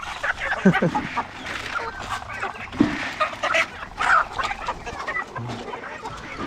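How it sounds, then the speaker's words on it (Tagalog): Chickens at a small farm cluck and call intermittently throughout, near and moderately loud, with faint voices now and then in the background. "Ito yung mga manok natin dito sa loob."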